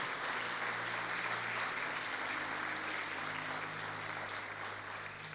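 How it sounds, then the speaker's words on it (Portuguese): A church congregation applauds during a Portuguese-language sermon, producing a steady, quiet, even wash of clapping with a faint sustained tone underneath and no speech over it. "Então aplauda ao Senhor e glorifique o seu nome por isso."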